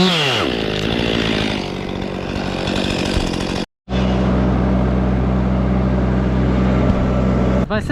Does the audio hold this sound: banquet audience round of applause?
no